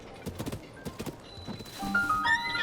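Horse hooves clip-clop at a stable in Zelda: Tears of the Kingdom, a quick run of close hoof beats followed by a bright whinny, with faint voice in the background.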